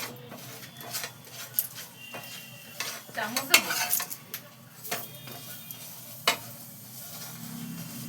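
A radish paratha fries in a little oil on a pan, giving a soft sizzle under irregular spoon scrapes and metallic clinks at close range.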